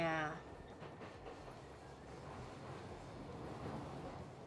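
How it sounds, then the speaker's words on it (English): A New York subway train rides along the rails with a steady, low rumble and faint rail clatter, opening with a brief tonal chime before settling into an even roar. "I really do miss riding the subway."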